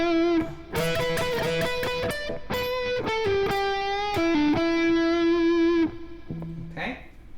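Electric guitar with effects plays a slow minor pentatonic lick of separate sustained notes with pull-offs, clear and upfront, closing with a short fading note.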